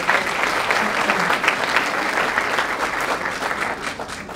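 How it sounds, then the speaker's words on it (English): A book launch audience in Addis Ababa gives a round of applause, a thick, steady wash of clapping from many hands, sustained evenly and slightly fading at the end. "Can you give them a round of applause?"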